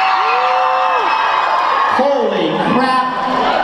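A dense live-event crowd screams and whoops steadily as a performer takes the stage, with rising shrieks and shouts piled together and a nearby voice briefly speaking over the din.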